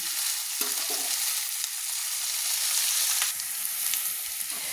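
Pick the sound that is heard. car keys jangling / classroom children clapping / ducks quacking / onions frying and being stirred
onions frying and being stirred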